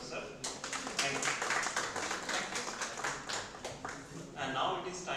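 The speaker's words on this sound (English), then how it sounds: "we can end this session by a round of applause for our honorable speaker" A round of applause for the speaker closing an online faculty development session, scattered clapping heard faintly alongside ongoing speech.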